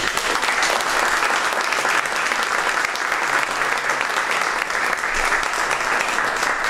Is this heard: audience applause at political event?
yes